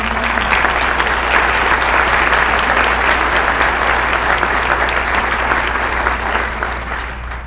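A breakfast crowd at a community foundation awards event applauds grant recipients, loud continuous clapping from many people over a low steady hum, easing slightly near the end.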